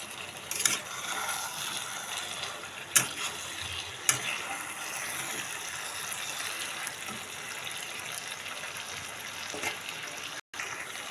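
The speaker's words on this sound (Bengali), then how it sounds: "এবার এতে আমি আলুগুলো দিয়ে দেবো।" Potatoes frying in a pan of chicken curry give off a steady, close sizzle with soft stirring clatter, a few sharper pops and scrapes, and no talking.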